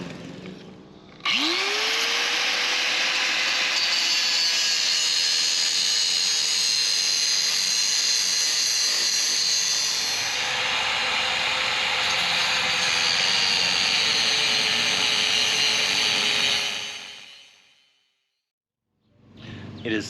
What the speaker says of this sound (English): I'm just going to cut it off, drop it, and deal with this on the dock.